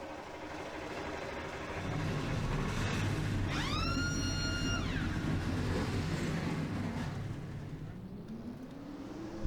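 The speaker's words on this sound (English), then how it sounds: "42 engines roaring to life here in Pensacola, Florida" Forty-two stock car engines fire up together at Pensacola, Florida in the NASCAR Racing 2003 game, a dense, steady roar in which one engine briefly revs with a rising whine midway.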